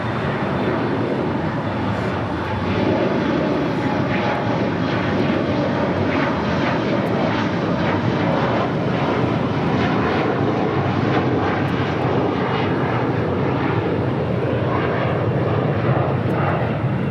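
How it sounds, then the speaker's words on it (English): American Airlines Boeing 737-800 arriving at LAX from Chicago O'Hare, its jet engines a loud, continuous roar that swells slightly and holds steady close by, with no voices over it. "That is American Airlines Flight 2994 coming in from Chicago O'Hare at a 737-800."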